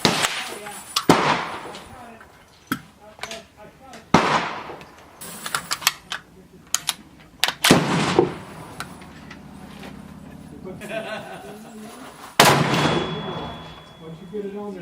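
Bushmaster ACR rifle firing outdoors, a series of sharp, loud gunshot cracks spaced a few seconds apart, each with a ringing tail, with occasional talk in between.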